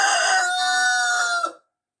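A sick hen gives one drawn-out, tonal call close up, lasting about a second and a half, then goes silent.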